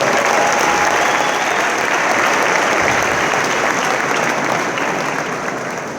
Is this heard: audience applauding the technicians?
yes